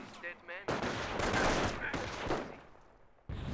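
Gunfire crackles through a Company of Heroes battle as a sniper-heavy defence is overrun at a forward base, dense bursts of shots filling most of the moment with a brief lull before firing resumes.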